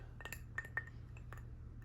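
An ice cube swirled in a glass of whiskey gives a few faint, bright clinks against the glass, two clearer taps among softer ones over a low steady hum.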